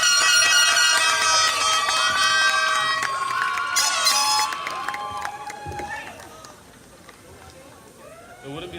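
A loud air horn blares in a cheering crowd at a City of Knowledge commencement ceremony for the Class of 2023, sustained blasts over crowd noise that fade into lighter chatter.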